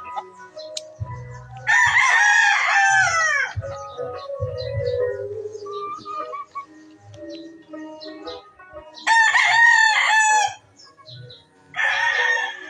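A young gamecock stag, about five months old, crows three times nearby, loud and hoarse, while soft clucks and faint bird chirps fill the quieter gaps.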